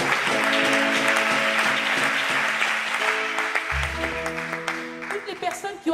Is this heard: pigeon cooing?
no